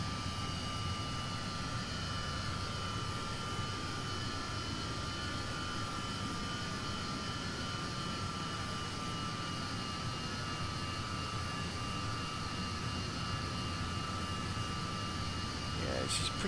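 Jet engines of a simulated de Havilland Comet 4C airliner taxiing in FSX, a steady, moderately loud whine and roar holding evenly throughout, with a faint tonal hum and no talking.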